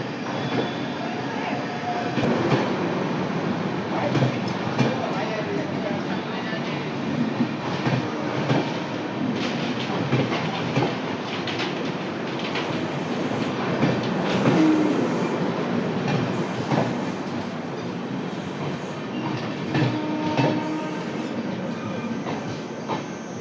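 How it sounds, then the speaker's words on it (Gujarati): Indore–Veraval Mahamana Express hauled by a WAP-7 electric locomotive, heard from inside a coach: a steady, loud rumble of running wheels and rail noise with rattles and clatter throughout, no talk. "હવે આ ટ્રેન નોન સ્ટોપ વેરાવળ લગી જશે."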